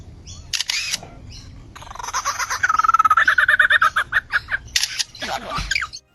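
An Australian lyrebird mimics a camera, producing a run of rapid clicking shutter-like bursts and warbling notes, close and fairly loud, with some bird calls before and after.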